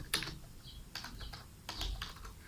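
Quick, close clicks from typing on a computer keyboard come in short bursts of keystrokes, fairly quiet and with no voice over them.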